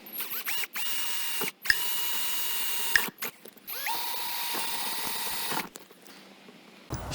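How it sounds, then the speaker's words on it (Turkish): Holes are drilled through a caravan wall to fit a Fiamma Magnum Frame door lock, a close, steady whirring drill in several bursts broken by short pauses and clicks, with no talk. "Şöyle işaretleri koyup delme işini yapalım."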